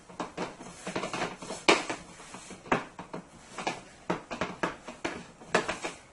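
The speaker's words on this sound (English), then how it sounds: "I'm going to continue to mix it until it turns into a dough" Dumpling dough being stirred in a bowl for homemade chicken soup, with soft, irregular scraping and knocking of a spoon against the bowl, quiet and close, no talking.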